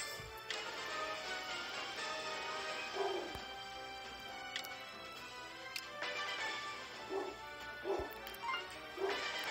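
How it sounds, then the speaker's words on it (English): A dog barks and whimpers indoors, repeated yips and barks at moderate distance, some pitched like whines, spaced irregularly with faint ticking behind. "And now my dog's barking."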